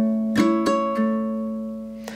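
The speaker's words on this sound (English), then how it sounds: "So I've got strum all four, string four, down, up, string four." Ukulele strummed in a pattern, with three sharp strokes in quick succession ringing into a sustained chord, then a fourth stroke near the end, close and clear.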